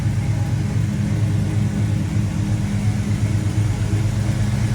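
A 1979 Pontiac Trans Am with a 455 V8 and automatic transmission idles steadily, a deep, even low rumble heard close and alone for several seconds.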